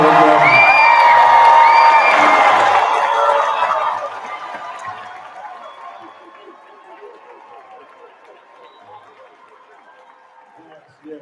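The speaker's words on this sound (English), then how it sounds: "can we give our graduates a round of applause, please?" A graduation ceremony crowd bursts into loud applause, cheers and whoops for the graduates, peaking in the first few seconds and then fading to scattered clapping and murmuring chatter.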